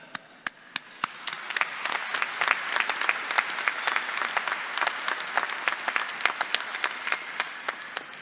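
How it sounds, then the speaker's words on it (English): Audience at a university spring commencement breaks into applause, a dense, lively run of clapping that holds steady for several seconds with a few sharp claps standing out. "they do deserve an applause."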